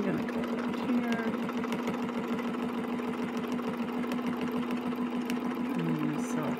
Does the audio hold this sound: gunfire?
no